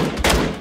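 Gunfire in the battle royale game PUBG (Battlegrounds), a short, loud burst of sharp cracks, close and harsh, standing alone with no talk.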